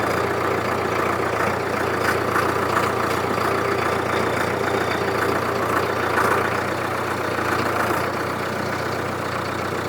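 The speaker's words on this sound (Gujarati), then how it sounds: "હવે બીજા જ ગિયરમાં આપણે ફરી રિવર્સ કેટલું સ્પીડમાં જાય છે." A Solis 5724 tractor reverses in second gear, its diesel engine giving a steady, loud low drone with a constant rumble throughout, no voices over it.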